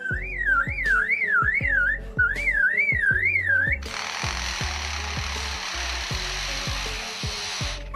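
Lyrebird mimicking other sounds, first a warbling, siren-like whistle in repeated rising and falling sweeps over sharp rhythmic clicks, then an abrupt switch to a loud buzzing, power-tool-like rasp, with no voices.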